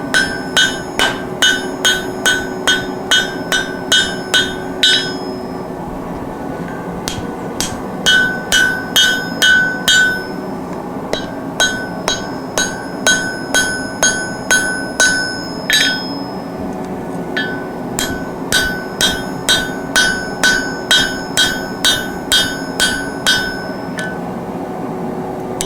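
A hammer strikes a folded rasp axe at full welding heat during a forge weld, ringing out in loud, close, rhythmic metallic blows grouped into several bursts with short pauses, over a steady forge roar.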